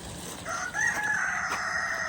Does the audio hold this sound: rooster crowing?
yes